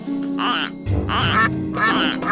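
Ducks in an Armenian-dubbed animated cartoon quacking loudly and close, in three distinct bursts of rapid quacks.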